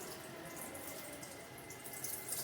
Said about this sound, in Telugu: ఆ నీళ్ళు అనేది తీసేస్తున్నాను.